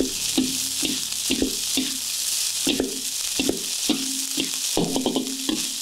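Village-style fried rice being stir-fried in a pan with fried anchovies scattered in: a steady hiss of frying runs throughout, broken by repeated scraping and tossing strokes of a spatula at an irregular rhythm, close and fairly loud.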